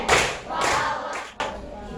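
A classroom of students claps out a rhythmic cheer, several bursts of close, loud clapping with a few voices mixed in.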